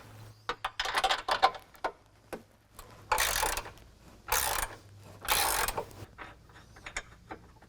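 A ratchet wrench loosens the frame bolts on a Jeep JL front bumper, giving quick bursts of close clicking strokes separated by pauses, with a few longer, louder rasping turns in the middle.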